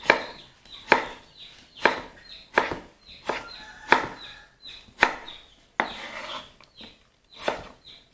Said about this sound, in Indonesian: Kayaknya ini saya iris lagi.